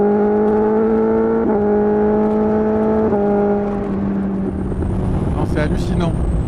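BMW S1000R 2018 roadster motorcycle accelerating to overtake, a steady engine whine climbing in pitch through two gear changes under heavy wind rush, close and loud.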